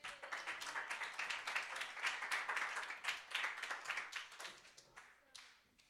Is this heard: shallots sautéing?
no